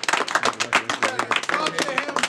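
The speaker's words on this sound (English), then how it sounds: "They clap it up for that round." Crowd clapping and cheering between rounds at a rap battle, a dense burst of hand claps mixed with voices and shouts, fairly close and lively.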